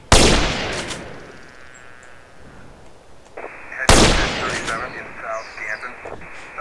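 Two loud sniper shots ring out in GTA San Andreas from a chrome Hello Kitty sniper rifle, each a sharp crack with a long rolling echo, the second arriving about four seconds after the first.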